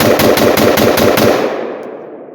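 Rapid full-auto burst from a rifle fitted with a CMMG adjustable gas block and pistol-length gas system, a loud continuous string of shots that stops after about a second and a half and then echoes away.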